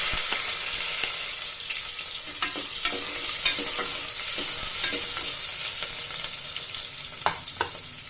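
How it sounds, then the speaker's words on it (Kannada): Onions fry in hot tempering oil for naati style chicken kurma, hissing in a loud, even sizzle with scattered light ticks and scrapes of stirring, no one talking. "ಈಗ ನಾನು ಈರುಳ್ಳಿ ಹಾಕೊಳ್ತಾ ಇದ್ದೀನಿ."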